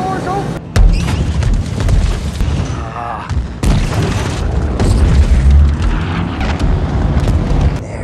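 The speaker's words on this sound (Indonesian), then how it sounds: "Setelah bom meledak di titik target" Bombs from a World War II bomber exploding on target in a film battle scene, heavy booming blasts rolling continuously over eight seconds amid dense roaring noise and a brief shouted voice.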